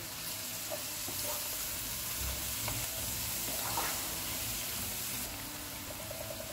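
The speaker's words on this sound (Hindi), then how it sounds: "प्याज फ्राई हो गए, इसमें अदरक और लहसुन का पेस्ट डालेंगे। इसको 1 मिनट तक फ्राई करेंगे।" Onions fry with ginger-garlic paste in a pan for BBQ chicken biryani, a soft steady sizzle broken by occasional stirring scrapes, fairly quiet and without talk.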